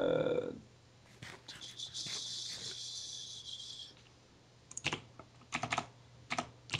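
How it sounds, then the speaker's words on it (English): A mechanical gaming keyboard clatters in quick bursts of key presses during Minecraft play, with a sustained hiss in the middle and crisp clicks returning near the end, under faint background noise. "Everyone, I have a mechanical keyboard"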